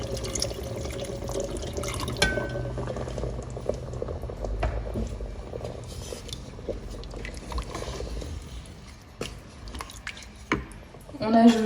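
Water being added to a Cookeo multicooker pot while Tunisian red rice with chicken simmers, a steady liquid splashing and bubbling that runs throughout, fairly loud and continuous, with a brief clatter near the end.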